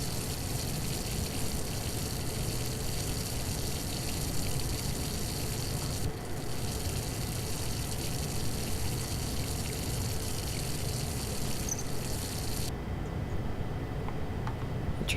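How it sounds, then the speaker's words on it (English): Water running from a tap in the horror video game Layers of Fear, a steady rushing gush that continues unbroken for the whole stretch, fairly quiet, with no voices. "Let's turn on the water."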